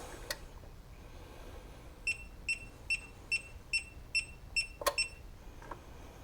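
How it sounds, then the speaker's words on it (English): A Giandel PM 5000 modified sine wave power inverter in a solar panel setup gives eight short electronic beeps at an even, steady pace, clear against a quiet background. A faint click is heard before the beeps start. "What's beeping here?"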